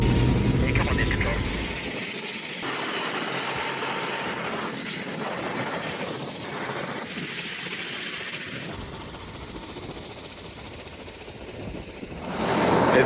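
An emergency helicopter sits at the Lukla landing strip in Nepal with its engine running and the throttle open. It gives a loud, steady broadband roar with rotor chop that fills the whole clip and swells at the end.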